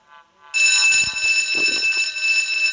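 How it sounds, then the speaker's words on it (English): Loud electronic alarm from the Stickman Survival video game, a steady multi-tone ringing that starts abruptly after a short quieter lead-in and holds continuously, with faint low thumps underneath. "Is it a false alarm?"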